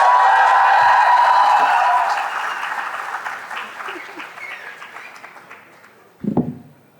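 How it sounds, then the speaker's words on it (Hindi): A crowd at a talk on UPSC exam preparation bursts into loud applause for Sandeep Bhaiya. The clapping stays strong for two seconds, then tapers off gradually, and a brief thump follows near the end. "संदीप भैया के लिए एक बार जोरदार तालियां"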